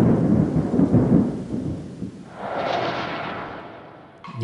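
Thunder rumbles low and heavy, then fades as steady rain hisses on, with no voices present.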